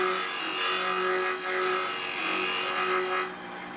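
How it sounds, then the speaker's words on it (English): Bowl gouge clearing wood from a spinning square lid blank for an oriental box on a lathe, a steady close whirring hum with a slightly rising scraping tone and a brief dip midway. "get your bowl gouge and just clear the rest of this wood away"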